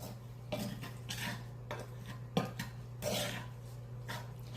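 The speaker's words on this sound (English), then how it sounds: "I'm going to stir this up" A spoon stirs brown sugar in a pan, making soft, intermittent scraping and clinking strokes close by. A low steady hum runs underneath.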